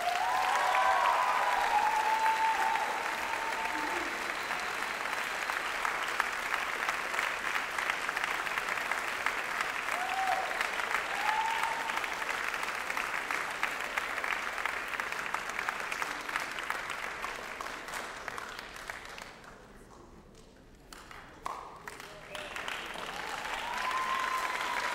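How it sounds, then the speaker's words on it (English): An audience delivers a long rousing round of applause, broad sustained clapping with a few voices cheering, dipping briefly near the end before swelling again. "I hope that you would all give her a rousing round of applause."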